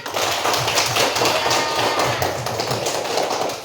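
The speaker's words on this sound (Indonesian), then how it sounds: "Jempol, beri tepuk tangan." A classroom of students claps together in an even, repeating rhythm, the hand claps loud and close throughout with no talking.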